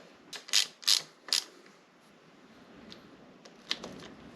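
A few quick ratchet clicks come in short bursts early on while the engine cover bolts are snugged down gently by hand, then a brief pause and another faint pair of clicks near the end.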